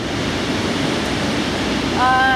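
A fjord waterfall fed by a small lake and melting snow roars as a steady, dense rush of falling water, with a short tonal whine rising near the end.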